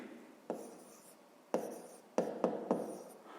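A pen writes a fraction by hand on paper in a maths exercise, several short scratchy strokes, sharp taps and quick scribbles separated by brief pauses, close and quiet.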